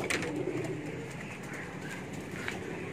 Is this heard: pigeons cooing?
yes